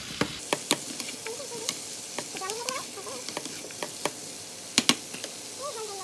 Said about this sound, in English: And now I'm just gonna saute all this together.